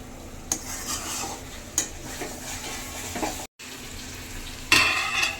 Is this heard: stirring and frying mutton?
yes